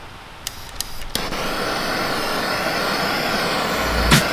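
A torch heats around a bearing on a differential shaft during a Salisbury differential overhaul: a few sharp clicks as it lights, then a steady, close roaring hiss of flame that runs to the end.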